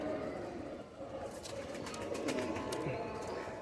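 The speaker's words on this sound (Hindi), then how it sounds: "बिल्कुल चूक चूक करते बच्चे हैं ये" Young Pak pigeons coo softly in a rooftop loft, low murmuring calls over a steady background hum, with brief fluttering and scratchy noises partway through.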